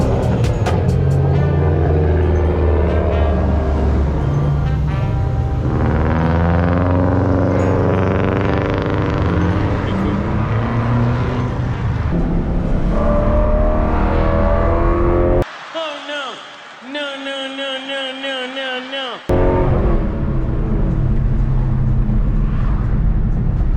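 BMW E92 M3 accelerating on the road, a loud sustained engine roar with rising revs through gear changes, heard from inside the car while people talk over it.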